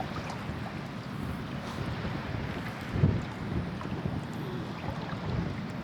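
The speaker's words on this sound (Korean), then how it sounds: "근데 바람이 거칠고 파도가 거칠어서 체감 온도는 거의 영하 정도의 날씨입니다." Rough, gusty wind buffeting the microphone on a beach, mixed with a constant churning wash of heavy waves, a cold blustery roar that stays steady with a brief louder gust midway and no talking.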